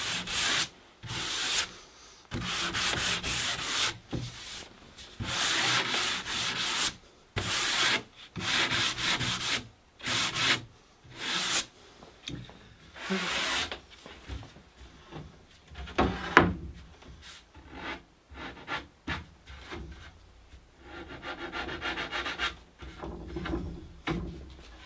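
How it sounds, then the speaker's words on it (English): Light hand sanding of a wood veneer edge banding with fine abrasive, rhythmic rubbing strokes in bursts, close and clear, with short pauses between passes. "we can just finish off with a very light hand sanding"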